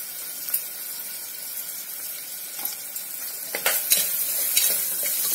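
Onions, ginger and garlic frying with turmeric for mutton dal, giving a steady bright sizzle in hot oil, with occasional stirring scrapes growing busier toward the end; nearby and without speech.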